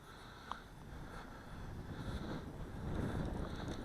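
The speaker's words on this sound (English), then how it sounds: "even with the little bit of a wind that we've got today" Steady wind buffets the microphone outdoors during a flight of an Air Hogs RC Batwing. The low rumble is continuous, swelling slightly louder toward the end, and no one speaks.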